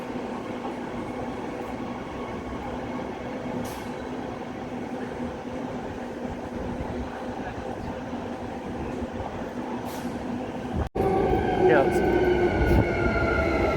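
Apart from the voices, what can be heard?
train heading to the airport, Perth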